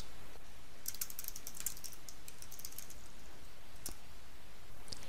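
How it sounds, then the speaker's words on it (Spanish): Typing on a computer keyboard, with a cluster of quick light key clicks followed by a single separate keypress like an Enter tap, close and fairly quiet over a steady low room hiss. "puedes pulsar la tecla Intro de tu teclado"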